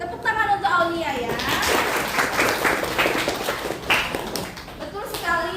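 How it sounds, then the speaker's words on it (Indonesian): A classroom of students claps for a classmate in a lively burst of applause, with a teacher's voice heard before and after the clapping. "tepuk tangan untuk Aulia ya"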